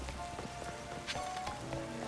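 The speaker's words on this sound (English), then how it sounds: "Oh, and wow, the game is lagging because of the rain." Steady rain falls across an outdoor area in Pokémon Legends Z-A, a dense, even patter that holds for the whole stretch with no voices over it. Game music and effects sit faintly underneath.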